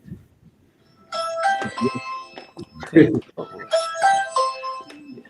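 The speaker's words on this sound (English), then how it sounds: "That's the doorbell." Doorbell chiming in a home, a few ringing tones heard close by, mixed with people talking.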